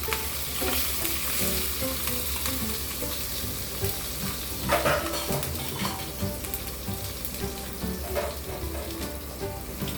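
Chopped green chilies sizzling in a hot oil tempering of cumin, mustard seeds and asafoetida in a pan, a continuous loud crackle with spatters and occasional stirring, no speech.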